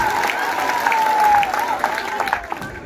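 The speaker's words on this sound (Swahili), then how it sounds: "Wapi makofi tena ya Joroge Wageleji." An audience at a celebration breaks into a short burst of clapping, dense and fairly close, with a voice speaking over the applause.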